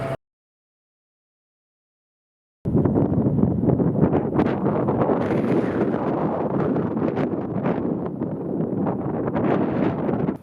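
Strong, steady wind roars and buffets the microphone during a forest fire windstorm near Hudson's Hope, British Columbia, loud and continuous after a brief silence, with no voices.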